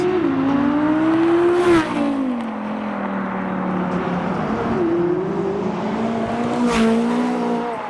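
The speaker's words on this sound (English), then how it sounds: "I think the R8's going to do us a launch." An Audi R8 supercar at the London start line of the Cannon Run launches hard, its loud engine rising in pitch as it accelerates away, then dropping and climbing again through gear changes, close by and continuous.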